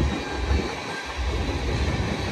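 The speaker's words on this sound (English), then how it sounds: "I said, we're literally stuck by a train." A freight train rolls past up close, a steady heavy rumble of wagons with faint clickety-clack throughout the short stretch.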